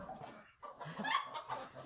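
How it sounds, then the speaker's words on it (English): A chicken clucks softly and briefly nearby, a few quiet fowl calls over faint background noise. "There's a chicken."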